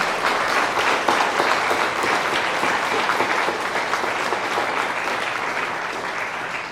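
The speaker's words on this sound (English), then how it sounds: "Big round of applause for the 21 seniors." At a high school senior awards night, the audience applauds the 21 seniors with a full, continuous wash of clapping that holds steady and only slightly fades at the end.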